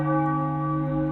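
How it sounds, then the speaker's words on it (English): A church bell tolls loudly and alone, its deep ringing tone held steady and humming throughout. "Do you hear the tolling of the bells?"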